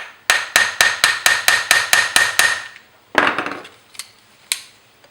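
Light hammer taps on a Honda CB750 carburetor during a carb rebuild to free a stuck part: ten quick, evenly spaced metallic taps, a pause, then a denser burst and three scattered taps, close and sharp, with no talk.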